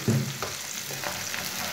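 Finely chopped onion sizzling and frying in a pan, a continuous crackling hiss punctuated by a few stirring scrapes, close and clear with no talking.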